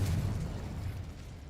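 Confringo spell in Hogwarts Legacy: a short, loud blast with a heavy low thump that fades within a second and a half, with no talk.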